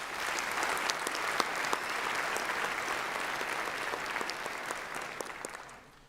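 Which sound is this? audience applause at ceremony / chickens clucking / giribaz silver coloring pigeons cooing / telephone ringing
audience applause at ceremony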